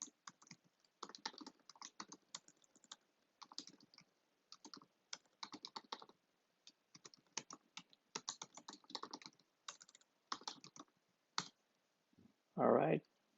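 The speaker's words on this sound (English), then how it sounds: "My typing is pretty rusty." Irregular bursts of keystrokes on a computer keyboard, quick clicking taps with short pauses between runs, close and fairly quiet, ending in a louder thump.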